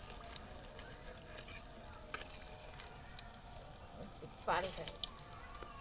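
Egg pakoras sizzle in hot oil with a steady, close frying hiss, broken by a few brief louder spatters near the end; a voice speaks over the frying at times.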